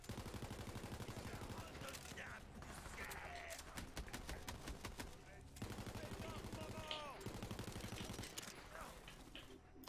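A small four-round gun in Borderlands 3 fires a rapid string of sharp shots in the middle of the stretch, set against dense, steady game music and effects with someone talking over it.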